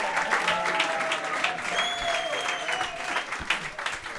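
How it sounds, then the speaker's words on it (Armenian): An audience at an evening show breaks into loud, sustained clapping to welcome the first guest, a thick wash of applause throughout, with faint voices mixed in. "եկեք բարձր ծափարենք"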